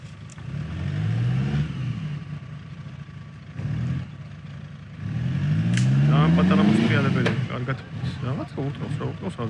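An off-road car in a standard-category trophy trial competition in Racha, Georgia, revving its engine in rising surges that climb in pitch, loud and close, with a second longer rev near the end and people talking over it.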